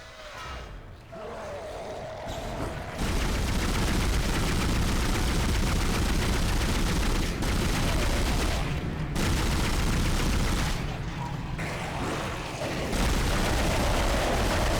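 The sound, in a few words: pulse rifle gunfire in the video game Dead Space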